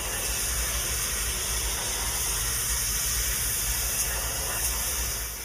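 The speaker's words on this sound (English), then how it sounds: "Hot steam lifts algae and grime from the stone surface" A steam cleaner blasts hot steam over a stone masonry wall to lift algae and grime, making a steady, loud, broadband hiss that continues unbroken from start to finish.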